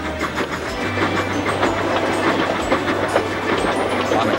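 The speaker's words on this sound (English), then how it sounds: "the engines pull their trains through the silent stations" Engines hauling mail trains along the track at night through quiet stations, giving a steady, fairly loud rolling rumble with faint repeated clatter from the rails and no voices.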